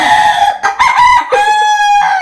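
A young fighting rooster crows once, loud and close, a long strained call lasting about two seconds with no other sounds around it.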